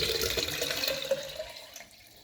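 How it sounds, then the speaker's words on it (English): Sodium hydroxide solution is poured into the feed tank of a membrane filtration setup, making a soft, steady splashing trickle. The flow is faint and fades out toward the end. "we will add 500 ml of NaH solution into the feed tank"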